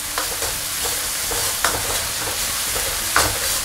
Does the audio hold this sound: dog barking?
no